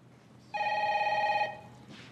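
A telephone bell rings in one clear burst of about a second with bright tonal harmonics, loud and close, then cuts off into quiet room tone.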